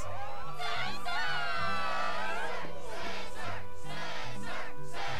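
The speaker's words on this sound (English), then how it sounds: "Yes, the crowd is fired up" An arena crowd in Kingdom Hearts 2 roars and chants for the fighter Setzer, loud rhythmic cheering and shouts rising in repeated waves over several seconds, with music underneath.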